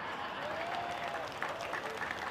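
Moderate crowd clapping from a congregation during an end-of-year sermon, steady and somewhat distant, with a voice faintly audible underneath.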